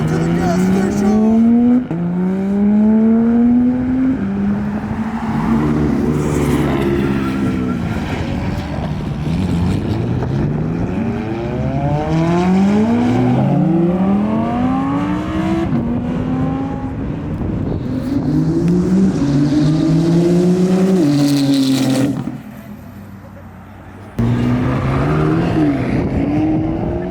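Supercars rev and accelerate hard past a crowd at a car meet, engines rising and falling through the gears one after another in loud, close fly-bys, with crowd talk underneath.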